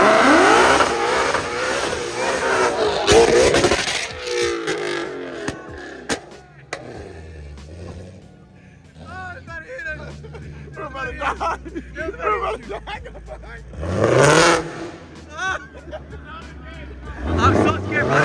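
A Ford Mustang GT500 at a street car gathering revs hard in bursts, with loud rising engine roars and crackles amid crowd babble and shouting voices nearby.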